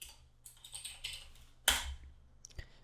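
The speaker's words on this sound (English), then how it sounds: "and then type in screen fetch," A few quiet keystrokes on a computer keyboard while a command is entered on a Fedora Linux machine, followed by one louder key strike and a final soft click, all faint and close.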